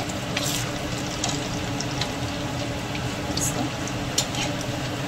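Dahi vada fry in oil over a low gas flame, with a continuous bubbling sizzle and scattered crackles and pops at close range, alongside a faint steady background hum.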